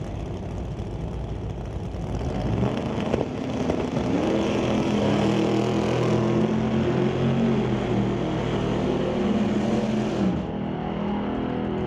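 A drag race between a Ford Falcon and a 1966 Chevy II in an ET bracket series: a dense, continuous engine roar, loud and steady throughout, with slight swells as the cars run, and no talking over it.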